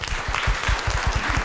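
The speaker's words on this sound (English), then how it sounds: "Give them a round of applause" Audience applause for panelists closing a cyber resilience panel in Tartu, a short stretch of clapping with distinct low thumping beats under a hissy wash of hands.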